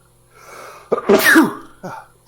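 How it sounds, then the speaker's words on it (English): A close, wet nose blow followed by a sharp sneeze burst and a short trailing snort, all loud and up close with no talking. "blowing his nose and sneezing"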